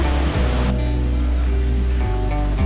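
Waterfall on the Peb Fort trek trail near Matheran, a loud, steady broadband rush of falling water that fills the whole stretch, close and unbroken.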